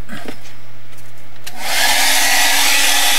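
A handheld hair dryer starts with a click and blows a loud, steady whoosh close by while drying a wet art journal background, after a brief quiet moment with faint handling.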